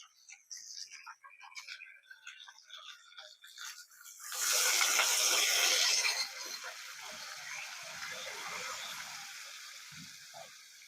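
Hot water is tipped into a pan of frying potatoes, giving a loud rushing gush for about two seconds. It then settles into a softer, continuous bubbling hiss, with quiet clatter before the pour.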